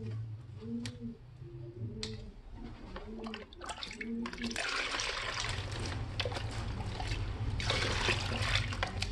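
Water poured from a gallon container, a steady trickling and splashing stream that builds louder and fuller in the second half, close up, following some soft clicks and handling sounds.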